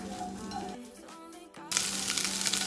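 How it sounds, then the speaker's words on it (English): Spam sizzles as it browns and crisps in a frying pan for fried rice, a steady frying hiss with a few clinks of a utensil, briefly quieter before the sizzle surges back louder. "I'm going to brown up and crisp up the Spam"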